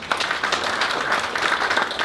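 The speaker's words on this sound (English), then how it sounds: "So big round of applause for them." An audience at a business event claps for board members, a brief burst of many hands with individual claps standing out in a quick, uneven patter at moderate volume.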